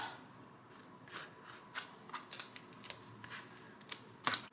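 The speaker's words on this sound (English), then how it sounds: "And I just start on one end and I just cut the vinyl just like this." An X-Acto knife slicing vinyl on a cutting mat, heard as quiet, close, irregular snips and scratchy clicks spaced over a few seconds with no talking.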